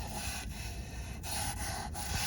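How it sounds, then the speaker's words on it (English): A mahogany corner cabinet being hand-sanded, with steady rasping back-and-forth strokes at close range, each pass broken by brief pauses, no speech. "I'll do a little bit more sanding for sure."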